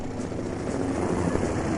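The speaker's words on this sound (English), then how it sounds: "Apparently we had helicopters." Helicopter rotors whir steadily in the 1995 Command and Conquer game, a dense, even drone that stays loud and unbroken throughout, with no voices over it.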